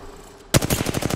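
An assault rifle fires in Apex Legends: after half a second of quiet, a loud, rapid automatic burst starts abruptly and continues in a steady rhythm of close, punchy shots to the end.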